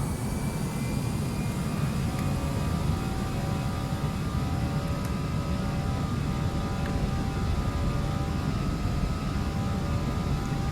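Airbus A319 jet engines at takeoff thrust in Flight Simulator X, a steady loud roar with high whining tones held evenly throughout, no talk over it.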